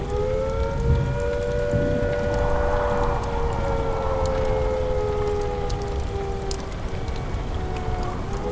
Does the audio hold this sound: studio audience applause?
no